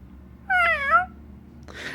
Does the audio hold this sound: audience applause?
no